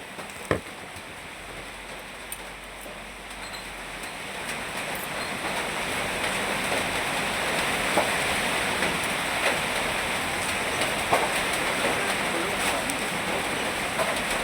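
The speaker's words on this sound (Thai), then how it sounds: "ฝนตกแล้ว" Rain pours on a street opposite Seacon Square, a steady broadband hiss that swells louder after the first few seconds and keeps falling evenly, with a few faint knocks.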